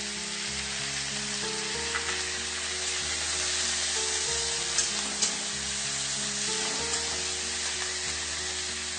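Beans and carrots, with mushrooms and capsicum, frying in a pan give off a steady, close sizzle with occasional stirring scrapes, under soft background music.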